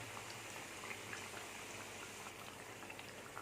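Nendran banana bajji fry in hot oil with a steady, soft bubbling crackle, faint and even throughout, and nobody speaking.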